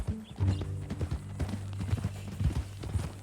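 Horse hooves clip-clop in a steady, quick rhythm across a Red Dead Redemption 2 game scene, close and fairly loud under a low rumbling background.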